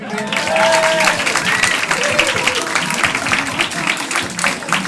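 An audience at Club Haug comedy club in Rotterdam claps loudly and continuously between acts, a dense wash of hands with a few cheers and a voice briefly rising over the crowd.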